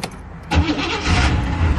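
A 1984 Pontiac Parisienne wagon engine cranks briefly and then catches, settling into a steady, rumbling idle, heard up close and loud with no talking.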